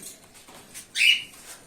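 Pet cockatiels and budgies in a home aviary give a single bright, sharp chirp in the middle of otherwise quiet surroundings, with a few fainter calls before and after it.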